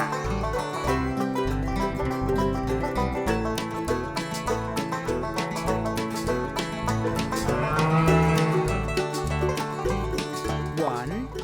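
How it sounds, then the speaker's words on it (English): Cartoon cow moos among farm animal sounds, set against continuous bright children's music on a toddler farm show; the mooing stays blended under the tune rather than standing alone. "Hello, Moo Moo cow."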